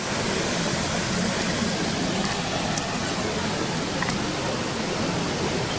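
Ouzoud waterfall in Morocco, a steady broadband roar of falling water, even and unbroken, heard from nearby with a few faint clinks over it.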